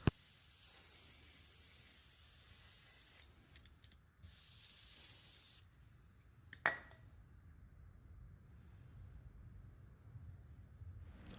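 Contact cleaner hisses from an aerosol can onto the oil screen of a Honda XR650L motorcycle in two close spray bursts, followed by a sharp click and quieter handling noise.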